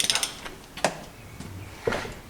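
A wrench ratchets on a Mercury 115 outboard, tightening bolts on the crankcase and exhaust covers: a quick cluster of clicks, then a few sparse, separate clicks spread apart, close by with no talking.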